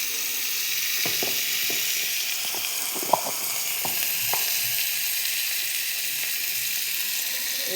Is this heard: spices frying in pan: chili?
yes